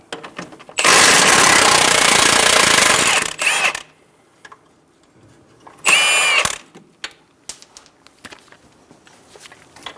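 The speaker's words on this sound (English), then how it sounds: "Using a 19mm socket for the nut, we're going to use a 19mm wrench for the head. We're going to remove the nut." On a 2010-2014 Subaru Outback strut mount job, a power tool spins off the strut nut with a 19mm socket in a loud sustained burst, then a second shorter burst, with clinks and handling noises between.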